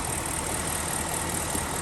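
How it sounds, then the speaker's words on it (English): A BMW X5 E70 with the N62 V8 idles with engine flush additive in the oil, a steady, even, continuous engine hum with broad hiss, close and fairly loud, with no voices. "So now I've already got the engine running."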